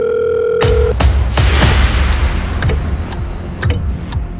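A phone ringback tone sounds briefly at the start of an outgoing call. It is a steady electronic tone that cuts off after under a second and gives way to loud clattering, handling noise and scattered clicks.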